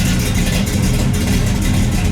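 A 1968 AMC Javelin V8 runs close by, a loud, rough, pulsing rumble that stays steady and alone across the brief moment.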